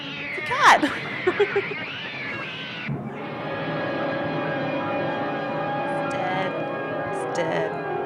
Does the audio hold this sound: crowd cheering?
no